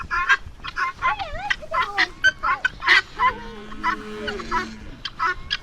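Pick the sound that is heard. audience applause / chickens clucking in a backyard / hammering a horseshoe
chickens clucking in a backyard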